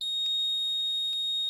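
A school fire alarm panel gives steady high electronic tones with two short beeps about a second apart, loud and alone with no talking.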